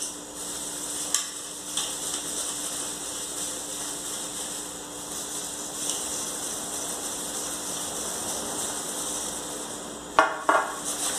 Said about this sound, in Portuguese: Pimenta do reino e pimenta calabresa aqui que eu vou moer junto